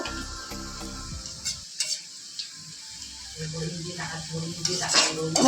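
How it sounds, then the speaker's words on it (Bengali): Food fries in small batches in a pan of oil, with a soft sizzle and intermittent stirring and clinks of a utensil against the pan. A tonal hum sounds at the start, and the sizzle grows louder toward the end. "পুরোটা একসাথে দিলে কিন্তু ভাজা ভালো হয় না আমি অল্প করে দিয়েছে"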